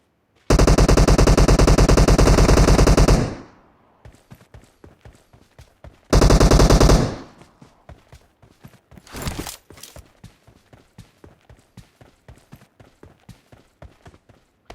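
Automatic weapon fire in the mobile game PUBG Mobile: two loud, sustained bursts of rapid gunfire, followed by quieter scattered shots and footstep-like ticks spread across the rest of the clip.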